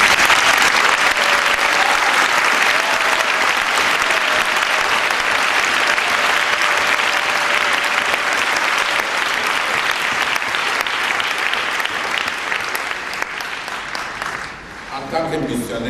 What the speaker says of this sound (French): Applaudissons d'abord pour le Seigneur Jésus